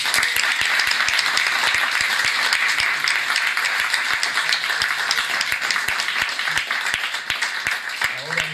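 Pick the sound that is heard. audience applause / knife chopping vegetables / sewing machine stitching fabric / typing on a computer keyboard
audience applause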